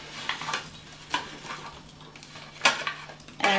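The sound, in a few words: scooping tater tots into a casserole dish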